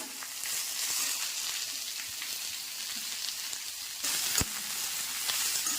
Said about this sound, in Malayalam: നമുക്കിതിലേക്ക് ഇനി നമ്മളുടെ സവാള, ക്യാരറ്റ്, ഇതിനെല്ലാം ഒരേ വേവാണ്.